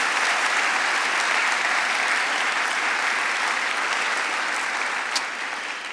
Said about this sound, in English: Let's have one final round of applause for all of you dedicated colleagues this morning.